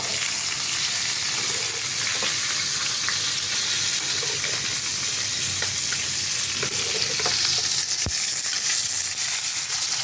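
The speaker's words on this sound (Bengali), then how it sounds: "পটলগুলো ভাজা হয়ে গেছে" Sliced pointed gourd (potol) frying in oil in a kadai gives a steady, dense sizzle with a bubbling crackle. It stays loud and even throughout, with no one talking.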